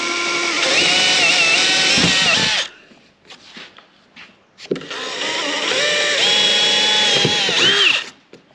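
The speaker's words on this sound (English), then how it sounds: "a knuckle drill and drill down the centre" A power drill whines loudly in two long bursts into 15mm lightweight plywood, with a brief pause of quieter handling noises between them.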